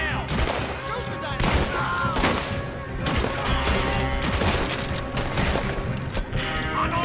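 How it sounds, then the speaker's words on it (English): Dense, sustained gunfire in the video game Red Dead Redemption 2, loud and continuous with overlapping shots and crashes during a chase, voices shouting beneath the din. "Shoot them, Arthur, before they blow us to high hell."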